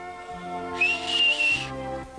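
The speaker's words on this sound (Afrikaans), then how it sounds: "En ek kan net so goed fluit ook soos hy." A person whistling a short, clear, high note that slides slightly in pitch and holds for about a second, close and fairly loud over a soft background hum.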